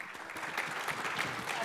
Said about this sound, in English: Let's get a round of applause for the women's panel.